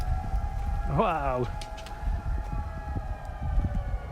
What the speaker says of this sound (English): Multiple fire trucks are coming.